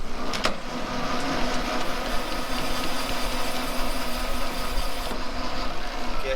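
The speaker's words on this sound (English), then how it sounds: "See how that chamfer tool, it just gets rid of the corner?" A chamfer tool cuts the corner of a cylinder sleeve on a machine in a machine shop, a loud continuous grinding, rumbling drone with steady mechanical whine and no pauses.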